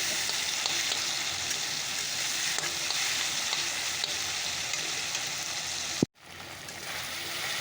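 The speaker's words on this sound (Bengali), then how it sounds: "এটা ভেজে নিয়ে সেগুলো মশলাগুলো দিয়ে দিই" Spices fry in a pan with a steady, close sizzling hiss that runs evenly, then stops abruptly with a sharp knock before the sizzle returns more faintly.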